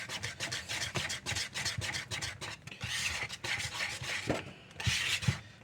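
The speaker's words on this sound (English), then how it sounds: "Whisk it in there quick." An egg mixture is whisked in a bowl with fast, rhythmic scraping strokes, close and fairly loud, the rapid rubbing beats running on without a pause.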